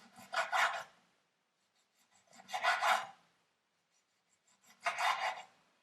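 A knife cuts a locally farmed potato into thin slices about half a centimetre thick for Swiss rösti. Three separate rasping strokes are heard up close, with quiet pauses between them and no talking.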